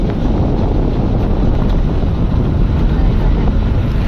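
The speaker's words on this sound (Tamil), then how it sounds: "அலை வருது லைட்டாக" Gentle sea waves washing onto the shore at Tiruchendur, heard as a steady, loud rushing wash with heavy wind noise buffeting the microphone throughout.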